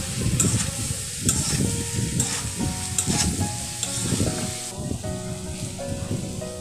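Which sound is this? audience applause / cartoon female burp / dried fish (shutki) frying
dried fish (shutki) frying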